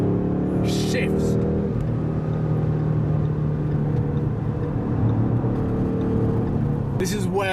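A 2015 Ford Mustang GT V8 drones steadily at speed on the autobahn, a loud continuous engine hum and road roar from inside the car, with brief speech at the start and end.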